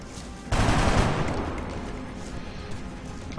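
Gunfire striking a tree in the strategy game XCOM: Long War, a sudden loud burst of rapid shots that cracks in and then rolls off into a fading clatter.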